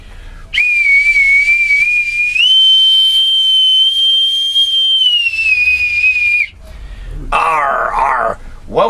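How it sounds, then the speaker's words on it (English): An authentic bosun's whistle is piped loud and near: one long, shrill sustained note that steps up in pitch, holds, then slides down and stops, followed by a brief warbling trill. "with my authentic bosun's whistle"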